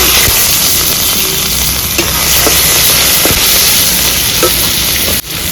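Whole spices, including bay leaf, cumin seeds, sugar, ginger and dried red chillies, sizzle hard in hot oil in a pan, a loud continuous frying hiss broken by a few sharp scrapes and clicks of stirring.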